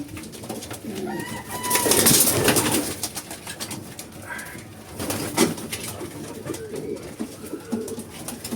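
Pigeons coo softly in low, throaty murmurs, with some rustling and fluttering nearby and a few brief bird calls.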